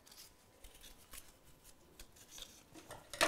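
Scissors snip and rasp through paper during a children's craft session, a series of soft close cuts with quiet rustling between them, ending in a louder crisp snip.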